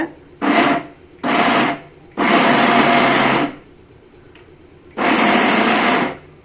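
A mixer grinder grinds soaked rice for idli batter in four separate bursts of harsh, whirring motor noise, each lasting roughly half a second to over a second, with quiet pauses between them.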